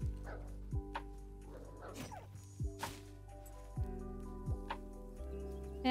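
A dog barking in the video game Dysmantle, several sharp barks and yips scattered over a low sustained music bed, with faint thuds in between.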